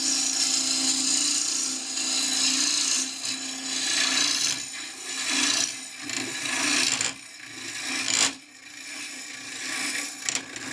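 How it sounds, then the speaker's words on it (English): A bowl gouge cuts pear wood spinning on a lathe during rough turning of a box, making a continuous loud rasping, scraping roar that surges and dips as the tool sweeps across the blank, with brief pauses. "you can also use the left wing of the bowl gouge."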